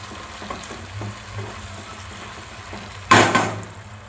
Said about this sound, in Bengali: টমেটো সস দিয়ে দিব, এবার নাড়াচাড়া করে নিচ্ছি।